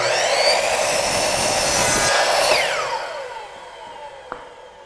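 A wooden trim board being cut with a saw, a loud, continuous buzzing rasp through the first half that trails off into a fading whine as the blade spins down, with a small click near the end.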